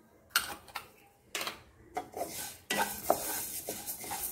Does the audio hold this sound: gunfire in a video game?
no